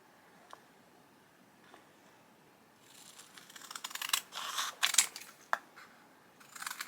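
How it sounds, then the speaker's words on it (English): Scissors trim a piece of craft vinyl with a run of close, crisp snipping and crinkling that starts soft and grows louder. A few isolated clicks come first. "I'm just going to use my scissors for that today."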